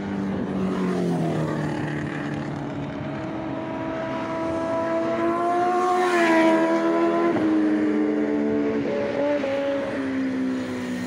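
Heavy motorbikes and superbikes pass on a road, a loud engine droning and climbing in pitch through gear changes as it approaches and moves past, with a continuous background rumble of traffic.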